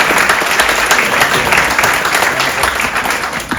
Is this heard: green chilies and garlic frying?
no